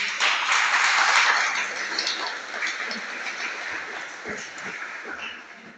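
A crowd claps for the corn queen at an elote festival, applause swelling loud at first and then thinning out gradually over several seconds, with scattered voices beneath.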